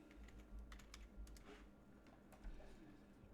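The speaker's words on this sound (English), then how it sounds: "let me type in seer real quick" Quiet, close keystrokes on a computer keyboard tap out in short irregular bursts against a faint background hum.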